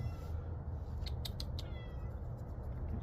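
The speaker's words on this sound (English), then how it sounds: "he never stops meowing" Cat heard in the woods at night, with a few short, faint meow-like calls over a steady low rumble of background noise and no talk.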